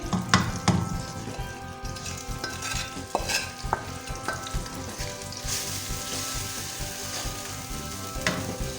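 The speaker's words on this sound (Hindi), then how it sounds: "अब हम सारे स्पाइसेस इसमें ऐड करके इसको भून लेंगे" Spices fry in hot oil over high heat for a degh-style chicken korma, a loud, dense sizzle under frequent stirring scrapes and a few sharp metallic knocks against the pot, heard up close.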